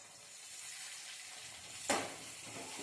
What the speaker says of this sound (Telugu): తాలింపు ఎంత బాగా కాలుతుంది కదా